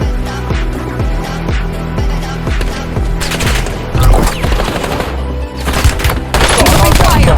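Automatic-weapon gunfire in Black Ops 6 rips out in rapid, repeated bursts of sharp shots, loud and close, set against a busy game soundscape with a heavier barrage near the end.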